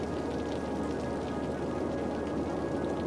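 Rain in the city-building game Cities Skylines falls as a dense, constant patter and hiss that stays even and fairly loud throughout, with no voices.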